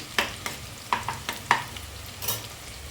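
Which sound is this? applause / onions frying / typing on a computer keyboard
onions frying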